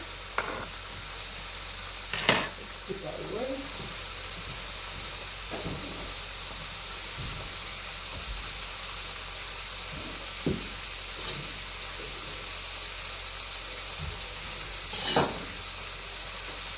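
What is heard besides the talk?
food sizzling in a pan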